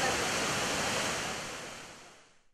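A waterfall roaring as a dense, steady broadband rush of falling water, loud and close, then fading away toward the end.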